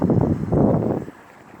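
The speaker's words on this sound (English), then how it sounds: "The wind will kick in and blow the leaves away, you see." Gusty outdoor wind rushes past a microphone with rustling leaves, a loud roaring burst that drops off abruptly into a faint, calm hiss.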